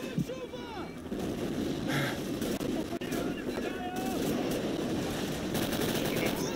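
Sustained gunfire from the Call of Duty 4 video game, with dense overlapping bursts and blasts running throughout at a steady, loud level and some voice mixed in.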